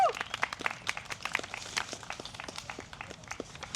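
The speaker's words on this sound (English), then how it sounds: "So thank you so much, and please give them a round of applause." Applause for the event chairs and guests at a community unity walk gathering, scattered light clapping at moderate distance, fairly thin and uneven over a few seconds.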